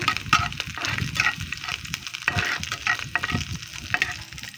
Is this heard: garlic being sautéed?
yes